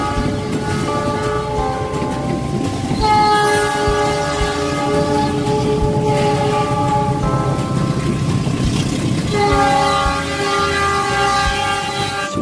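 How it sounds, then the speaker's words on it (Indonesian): A train rumbles steadily past while its horn blares in several long, loud blasts over the rolling clatter. "kereta api."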